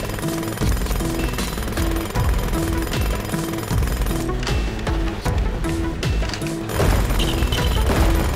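Continuous rattling pneumatic-drill hammering from a LEGO Movie Videogame construction scene, loud and dense, layered over a looping game music bed with periodic thuds.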